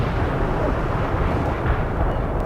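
Cluster-bomb airstrike explosions in the video game The Third World War: a dense, continuous roar of overlapping blasts and rumble, loud and steady throughout, with no pauses.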